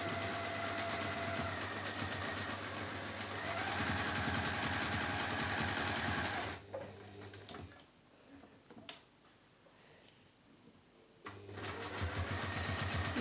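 Sewing machine stitching fabric for a peek-a-boo bunny, a fast steady mechanical whirr running for several seconds, stopping for a quiet pause with a few clicks, then starting up again.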